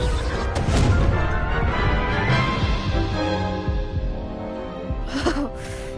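Spell blasts in the Hogwarts Legacy video game, fire and explosive Incendio and Confringo casts, heard as loud crashing, booming impacts that blend into a dense, continuous din, with a sharp burst near the end.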